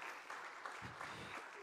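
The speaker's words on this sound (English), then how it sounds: "Let's give all these families a big round of applause." Audience applause for several families at a church missions and care gathering, steady clapping from a crowd throughout, moderately distant and even.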